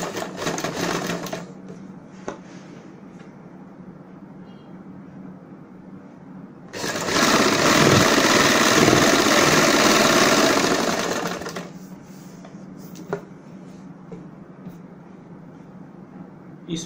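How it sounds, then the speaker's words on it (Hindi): A sewing machine stitches the folded waistband edge of a churidar pajami in one loud, steady whirring run of about four seconds, with quiet handling sounds and clicks before and after. "नेफा फोल्ड करते हुए किनारी की सिलाई लगाएंगे"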